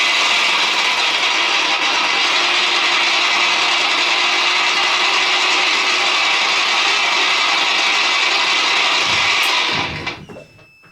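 A homemade six-speed electric dirt bike motor gives off a steady, loud, close mechanical whir with a new noise in it. It holds constant for about nine seconds, then winds down and fades out.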